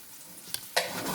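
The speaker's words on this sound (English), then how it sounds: "now I'm low frying that sausage so it doesn't get too crazy on me" Oil sizzles in a pan with a soft, steady crackle as sausage fries on low heat, then flares into a louder, brighter sizzle partway through as something hits the hot surface.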